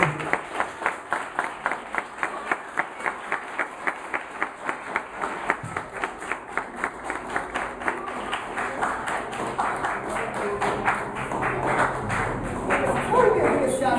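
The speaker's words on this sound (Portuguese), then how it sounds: "Aplauda ela nessa noite." Church congregation applauding during a service, rhythmic unison clapping at a steady beat that gradually blurs into looser, fuller applause, with voices mixed underneath.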